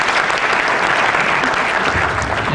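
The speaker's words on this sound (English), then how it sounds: "So a round of applause for them." An audience applauds after a children's school band concert, a dense, loud burst of clapping that runs without a break from start to finish.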